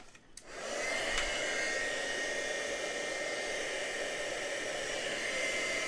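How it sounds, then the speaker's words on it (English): A heat tool switched on and blowing steadily to melt embossing powder, a loud, constant airy whoosh with a motor whine that starts after a brief click and runs without pause. "take your heat tool again and heat it up"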